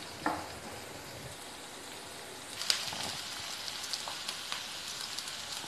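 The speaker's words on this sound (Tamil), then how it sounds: "சின்ன வெங்காயம் நல்லா பொன்னிறமாக பொரிஞ்சிருச்சு" Shallots frying in hot oil in a home kitchen until golden, a steady fine crackle and sizzle throughout with a few sharper pops, close and moderately loud, no voices.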